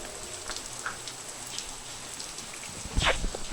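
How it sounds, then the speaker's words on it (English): Rain shower falling in the Oman desert, a steady patter of drops on surfaces with a brief louder burst of splashing near the end. "This is the second shower."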